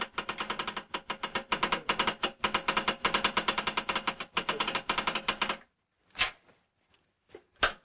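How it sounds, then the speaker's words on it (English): Geiger counter in a 1959 film, rapid dense clicking in fast irregular bursts for several seconds, then stopping abruptly and leaving a few isolated louder ticks and pauses. "It's a Geiger counter. That clicking means that you have radioactive poisoning."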